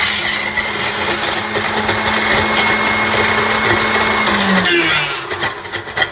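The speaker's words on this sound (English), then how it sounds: "Go to the highest speed. You can see it has already been doing a pretty good job." A KitchenAid stand mixer with a shave ice attachment runs at its highest speed, grinding ice in a steady loud whir with a tonal motor hum, then the pitch drops and the noise thins as it slows near the end.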